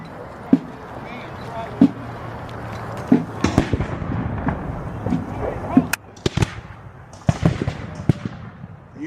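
Sharp musket shots at a Battle of York 1813 re-enactment crack out singly and in small bursts, some close and loud, others farther off, with people talking between and under the volleys.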